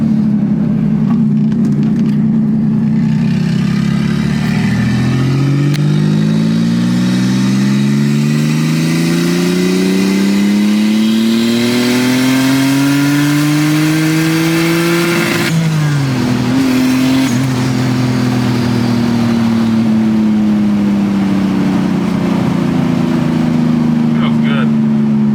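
Turbocharged Nissan Maxima making over 550 wheel horsepower, its engine revving and accelerating hard with rising and falling pitch sweeps and turbo noise, loud and close from inside the car, with people talking over it.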